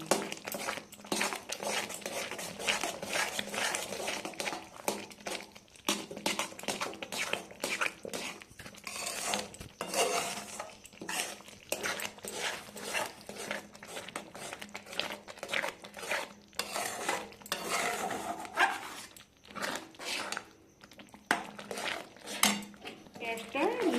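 Coconut sandesh mixture with cardamom seeds and camphor is stirred in a pan over low to medium heat, producing rapid, continuous metal scraping and clinking up close, at a moderate level throughout.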